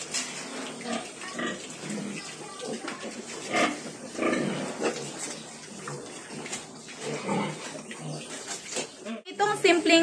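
Newly weaned piglets with diarrhea eat wood charcoal, making busy close-up chewing, crunching and snuffling with scattered grunts throughout.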